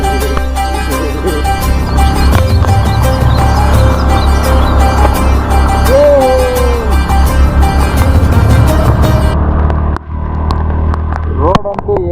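A vehicle travels along a road in monsoon rain, giving a continuous low rumble beneath voices and other sounds. The sound briefly thins out near the end.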